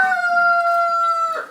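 A rooster on a family homestead crows once, a loud, close, sustained call lasting just over a second and clear of any other sound.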